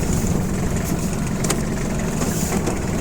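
Kubota GL29 mini tractor, a Japanese 29 hp four-wheel-drive machine with a rotary tiller, its diesel engine running steadily under load, close and loud with a rough, continuous rumble and no pauses.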